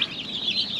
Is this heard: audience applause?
no